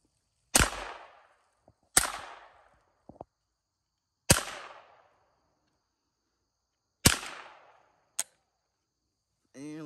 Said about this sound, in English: back out here shooting a 22